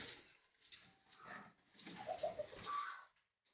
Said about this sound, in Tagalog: Papaliparin lang natin itong mga matured na kalapati natin.